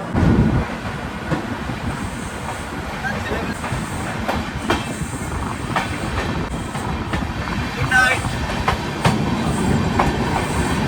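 Onboard the Sealdah Humsafar Express, a passenger train rolls with a continuous rumble and periodic clickety-clack of wheels over rail joints, steady and close, with some faint voices in the carriage.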